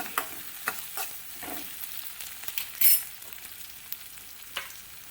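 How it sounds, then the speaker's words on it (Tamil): Green chillies sautéing in a pan, a light crackling sizzle broken by several sharp scrapes of a spoon stirring, close and fairly quiet. "பச்சை மிளகாய், ஒரு 2 நிமிஷம் வதக்கிக்கலாம்."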